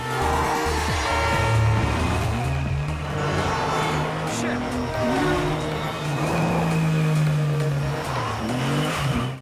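A car speeds away during a chase, its engine revving hard and steady throughout, with occasional tire squeal and faint voices mixed in.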